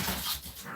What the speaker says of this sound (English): And you may hear my puppies in the background.